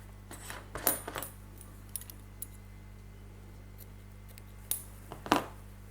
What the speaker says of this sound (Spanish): Cortamos el hilo